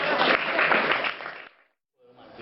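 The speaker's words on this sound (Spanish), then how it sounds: "Un aplauso para Reina Rosco." Crowd applause at a book presentation and short-story reading, a dense wash of clapping that holds steady and loud, then fades out into a brief silence before a faint sound resumes.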